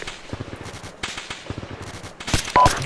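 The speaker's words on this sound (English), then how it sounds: "Receiving fire from the north." Incoming machine gun fire from the north during a military operation, rapid bursts of sharp cracks in irregular clusters with brief pauses, growing louder toward the end.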